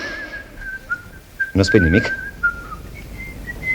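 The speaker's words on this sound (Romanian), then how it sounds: "Fluieri." A person whistles a thin, wavering tune nearby in a Romanian radio play, with a brief spoken question cutting in partway through before the whistling resumes.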